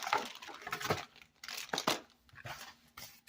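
Plastic bags crinkle and rustle in several short, irregular bursts close by, with brief pauses between handling sounds and no talking.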